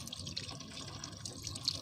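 A kitchen tap runs slowly with weak flow, giving a soft continuous trickle and splash close by, fairly quiet and without any talk.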